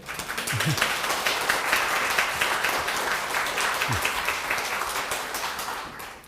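Church congregation at a Sunday worship service claps to welcome a missionary, a steady, moderately soft patter of many hands lasting several seconds, with a couple of faint voices underneath, tapering off at the end.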